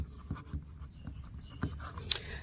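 Pen or chalk strokes writing out a Class 9 number-system maths solution, a run of irregular soft scratches and taps, close and faint, no talk.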